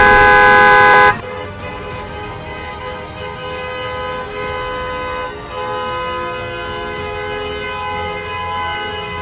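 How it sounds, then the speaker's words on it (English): A loud, sustained car horn blares for about a second, then cuts off, leaving steady traffic noise with fainter honking in the background. "Honking in this situation is unbelievable."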